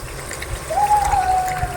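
Water is poured into a pan of chicken kofta gravy, giving a steady trickling pour that starts partway through and runs continuously to the end, close and fairly loud, with no talk over it.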